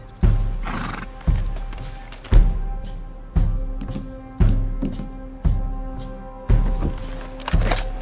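A horse whinnies and snorts while hooves clop in a steady repeating rhythm in the video game Red Dead Redemption 2, each step a sharp thud, loud and close throughout.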